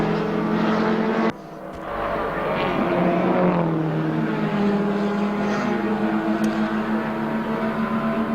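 Toyota dealer team twin cam Celica race car at the 1980 Hardie Ferodo Bathurst 1000 tails the Dixon Avco Pepsi V8 Camaro, engines droning loud and steady with a brief dip before the roar swells back.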